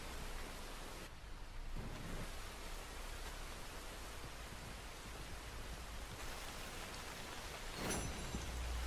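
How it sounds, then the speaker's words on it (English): Steady rain hisses down in Red Dead Redemption 2, a continuous broadband wash with a short dip early and a faint rumble near the end. "The rain's starting to get on my tits"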